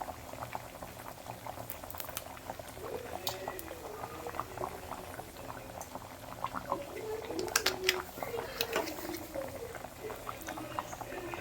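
Fish curry bubbling and reducing in a clay pot (manchatti), a steady close thick-liquid bubbling with soft popping and occasional stirring clatter.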